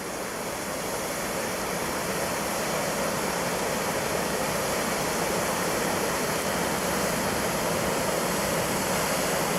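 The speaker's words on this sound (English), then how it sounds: "mountain stream." A clear mountain stream rushes over rocks into pools, a steady broadband wash of flowing water, close and continuous with no voices.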